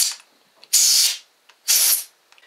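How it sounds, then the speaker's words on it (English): Two loud, close hissing bursts of spray cleaner aimed at 2-stroke carburetor parts, each lasting about half a second, separated by quiet with faint handling clicks. "give it a nice spray"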